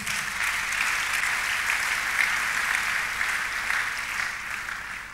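Church congregation applauding together, a steady, dense wash of clapping that holds evenly throughout with no talk over it.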